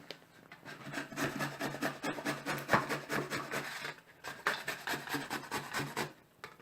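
Continuous rasping scrape of bottle gourd (dudhi) being grated on the big holes of a hand grater, fast repetitive strokes close up with a short pause midway.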